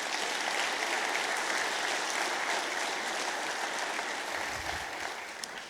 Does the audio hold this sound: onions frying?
no